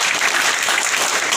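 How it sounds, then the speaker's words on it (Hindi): Loud, dense applause from a seminar audience welcoming a guest leader, steady and sustained across the whole moment with no talk over it. "तो एक बार जोरदार तालियां।"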